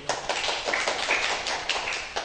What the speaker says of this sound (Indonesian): Tepuk tangan untuk beliau-beliau.